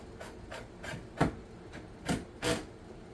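Screws on an IKEA cabinet handle bar are tightened with a tool, giving a series of short rasping twists and ratchet-like scrapes, about seven close, quiet bursts at an uneven rhythm, no talk.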